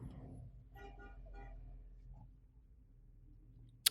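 A car horn toots a few times from some distance, faint and brief, over low background rumble with no clear talking.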